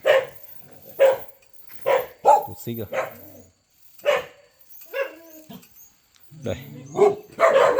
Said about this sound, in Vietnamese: Mình cho các bác vào xem mấy chú chó này